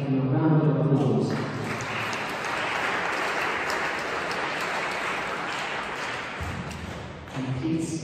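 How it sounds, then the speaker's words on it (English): A church congregation applauds the organist at a Sunday service, steady clapping from many hands filling the room for several seconds before fading into voices and organ. "I'd like to give him a round of applause."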